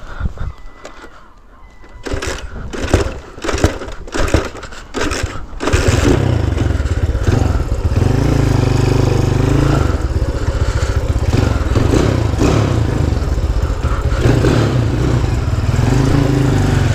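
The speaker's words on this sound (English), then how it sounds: "This bike must be the bloody loudest thing there is in Loo at the minute." A Honda Cub motorcycle on a ride: after a few seconds of scattered bursts and knocks, a loud, close, steady engine drone takes over and holds for the rest of the ride.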